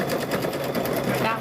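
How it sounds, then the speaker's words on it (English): A sewing machine rattles rapidly and continuously at close range, stitching the corner of a fabric microwave bowl cozy, while someone talks over it. "So I'm going to get this last corner sewed here."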